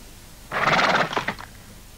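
A horse whinnies once, loud and close, in a short rising burst that breaks into a fading, stuttering tail, with no talk over it.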